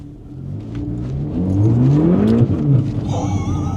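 Rear-wheel-drive Audi S3 driving on icy back roads, its engine revving and building in a steady rising drone that swells toward the middle, heard from inside the car with no talk.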